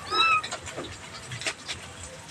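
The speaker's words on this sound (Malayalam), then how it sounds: "അപ്പോൾ 2 പൂച്ചക്കുഞ്ഞുങ്ങളെ മാത്രമേ കണ്ടുള്ളൂ" Small kittens give several thin, high meows in quick succession close by, with faint rustling and background noise between the calls.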